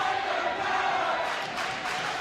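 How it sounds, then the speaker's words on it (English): Ephrata's home crowd at a high school volleyball match against Quincy raises a continuous, moderately distant roar of cheering and shouting that holds steady throughout. "here comes the Ephrata crowd getting everybody into the game"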